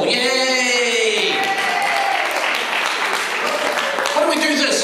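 Crowd applause fills a community celebration for a Pasifika anniversary event in Auckland, with dense clapping and cheering throughout, loud and near, while a voice talks over the top at the start.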